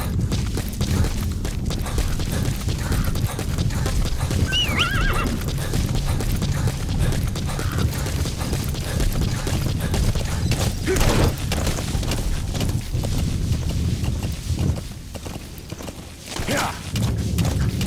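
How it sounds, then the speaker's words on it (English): A horse's hooves thud and clop in the Metal Gear Solid V wilderness, a steady rumbling gallop with game ambience and occasional heavier thumps, the pace easing near the end. "Use your horse."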